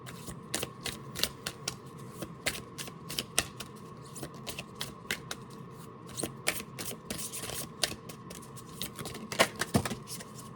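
A deck of affirmation cards is shuffled and riffled by hand, producing quick irregular papery snaps and flutters at close range, fairly quiet with no talk.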